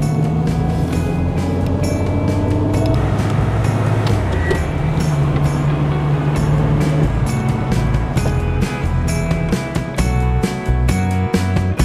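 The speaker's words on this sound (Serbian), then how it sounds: "To je taj zvuk prve brzine" Zastava 750 Fića car engine pulling in first gear, a steady close droning rumble with a continuous low hum and sharp periodic ticks running through the whole stretch.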